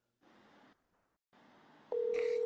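Telephone call being dialed: two stretches of faint line hiss, then a loud steady tone with a brief burst of higher tones, close and with no talk.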